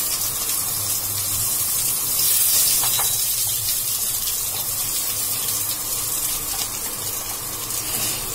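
Onions frying in oil for egg biryani make a steady, close hiss of sizzling that holds evenly throughout, with a faint low hum underneath.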